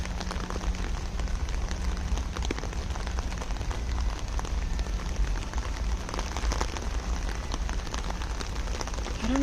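Steady rain falling in a cemetery, a continuous dense patter of drops on surfaces with a faint low hum beneath, even and unbroken throughout.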